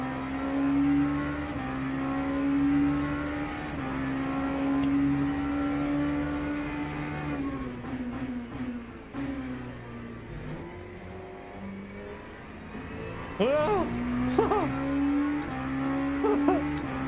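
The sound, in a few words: LMP2 race car engine in Le Mans Ultimate video game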